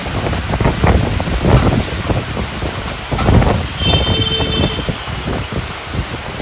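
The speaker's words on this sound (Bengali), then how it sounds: "এত বেশি বাতাস হচ্ছিল" Strong wind gusting through a nighttime rainstorm, buffeting roars swelling and fading over a steady wash of heavy rain, loud and close with no one speaking.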